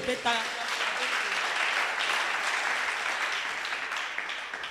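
A church congregation claps together in a sustained, dense round of applause at close range, with a few voices and cheers mixed into the steady wash of hand claps.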